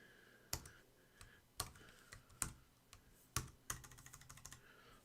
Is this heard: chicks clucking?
no